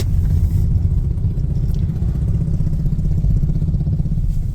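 Motorcycles of bike riders pass on a road in Pithoragarh, a continuous mid-pitched engine rumble and clatter, fairly loud and close throughout, with no speech.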